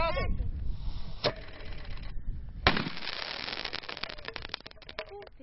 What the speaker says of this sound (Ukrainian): а гостей зустрічають пострілами з гармат